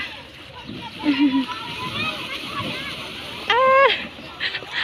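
Elephants playing in water, spraying and splashing close by, with bursts of sloshing and splatter while children and adults talk and shout over it.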